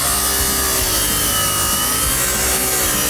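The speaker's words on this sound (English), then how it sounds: "This is the biggest grinder ever." A huge grinder cuts through steel in a video game, giving a loud, harsh, continuous rasping grind that stays close and dense for a few seconds.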